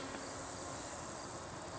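Honeybees buzz around an open hive during an inspection in a beeyard, a steady, close, unbroken drone with a thin high whine and no voices.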